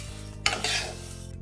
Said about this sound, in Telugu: ఇప్పుడు సేమియా కలుపుతూ వేయించుకోవాలి